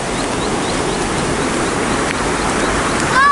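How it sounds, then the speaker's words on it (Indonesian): Swift, deep river water rushing near rice paddies at harvest time in a village in Jember, a steady loud broadband roar with no clear talk. "Itu suaranya airnya deres terus dalam itu."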